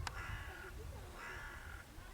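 Crows cawing outdoors in late summer, two drawn-out harsh caws at moderate distance over a low rumbling background, with no talk.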